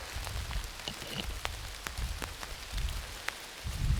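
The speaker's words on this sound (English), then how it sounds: "Now, it was not raining earlier when we come out here, but it definitely is now." Rain falling on a rocky woodland trail, a steady patter of drops striking leaves and ground with occasional sharper close hits, alone without talk.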